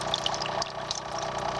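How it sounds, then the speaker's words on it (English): A small homemade waterfall in a paludarium pours and trickles steadily, a close, continuous splashing with no talking. "And over here we have the waterfall I created."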